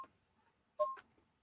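A phone notification tone from the video game Dreamfall: The Longest Journey: a short, bright two-note electronic chime, heard once and clearly, then quiet.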